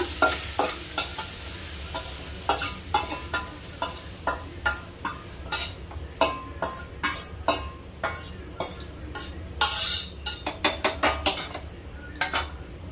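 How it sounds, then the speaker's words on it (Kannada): Masala being tempered in hot oil with a continuous sizzle under a rapid run of sharp metallic scrapes and taps from a spoon against the pan, close and fairly loud, no voices. "ಇವಾಗ ಒಗ್ಗರಣೆ ಕೊಡ್ತಾ ಇದ್ದೀನಿ"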